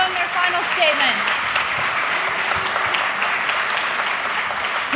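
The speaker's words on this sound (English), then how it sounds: "Give them a round of applause" Audience applause fills a candidate forum, steady and dense throughout, with voices and the odd whistle-like tone faintly mixed into the crowd noise.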